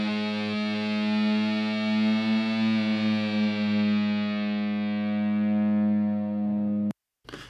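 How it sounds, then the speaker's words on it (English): A sustained electric guitar drone note rings alone, steady and rich with overtones under distortion and effects, holding for about seven seconds before cutting off abruptly. "I added this little guitar drone note in here"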